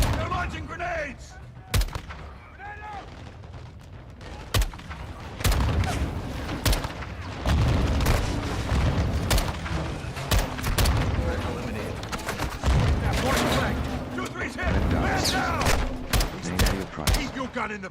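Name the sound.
grenade launches and gunfire in a video game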